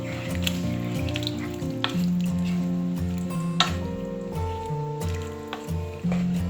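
Coconut milk poured into a pan of Sri Lankan green apple curry and stirred, giving soft wet sloshing and gentle sizzling under a steady tonal background.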